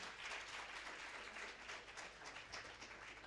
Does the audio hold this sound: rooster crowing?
no